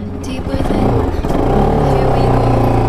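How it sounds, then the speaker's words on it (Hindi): A Pulsar RS 200 motorcycle being ridden, its engine droning loudly and steadily with rising revs and strong wind and road rumble close to the rider. "सो अभी हम चला रहे हैं पल्सर RS 200"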